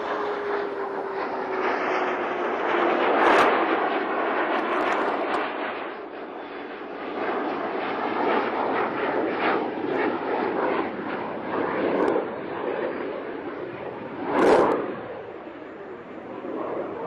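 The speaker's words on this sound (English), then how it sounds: "Discovery rolling out on runway 15 at the Kennedy Space Center" Space Shuttle Discovery rolling out on runway 15 at Kennedy Space Center after landing, a steady broad roar of rushing air and rumble that swells and fades, with a couple of brief sharp bursts near the end.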